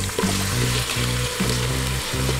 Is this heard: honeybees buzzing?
no